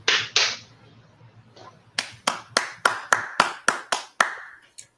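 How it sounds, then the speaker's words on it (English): Hand clapping at an art show: two loud claps, a short pause, then a run of about nine sharp, evenly spaced claps close by, each ringing briefly in the room, with no talk. "Thanks for the clap."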